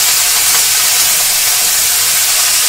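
Cauliflower frying in mustard oil gives off a steady, loud hiss and sizzle that runs unbroken from start to finish with no voices.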